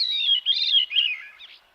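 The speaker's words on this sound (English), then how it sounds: "The whirling, flute-like song of the veery rings through the trees of the northern United States and southern Canada" A veery thrush sings a short, clear whirling, flute-like phrase that spirals downward in a few quick, overlapping notes, heard close and alone with no background noise.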